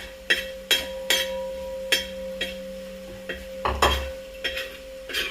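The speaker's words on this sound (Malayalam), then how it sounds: "6 കിലോ ബീഫാണ് ഫ്രൈ ചെയ്യുന്നത്." A large batch of 6 kg of beef frying in a pot, with sharp metal scrapes and clanks from stirring every half second or so over a faint steady sizzle, near and fairly quiet.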